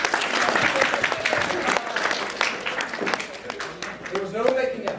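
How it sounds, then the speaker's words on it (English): Convention panel audience breaking into quick applause, a crowd of hands clapping steadily with sharp individual claps standing out and voices talking over it toward the end. "round of applause, quickly."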